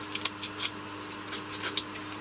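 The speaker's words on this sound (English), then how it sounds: "Cut away some of that" Material being cut away by hand for a book nook build, a quiet series of short crisp snipping or slicing strokes in an irregular rhythm, close up with no talk.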